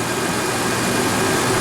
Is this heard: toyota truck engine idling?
yes